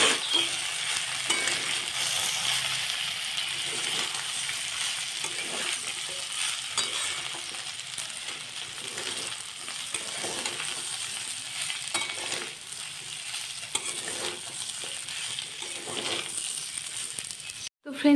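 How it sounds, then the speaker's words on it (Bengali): Potatoes and raw rice frying in a pan over a low flame while being stirred constantly, giving a steady close sizzle with scraping and clinking strokes throughout. "ভালো মতো নেড়ে নিতে হবে, আর নাড়তেই থাকবে, একদম ছেড়ে দেবে না"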